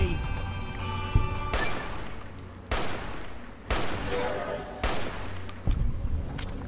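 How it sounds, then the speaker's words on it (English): Gunfire in Fallout New Vegas at Jacobstown comes as several loud, separate bursts of shots spaced about a second apart, each ringing briefly over quieter game ambience. "Let's start shooting like crazy."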